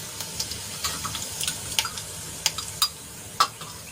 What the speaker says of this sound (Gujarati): તેલ ગરમ થાય એટલે એમાં આપણે અડધી ચમચી જેટલું જીરું એડ કરીશું.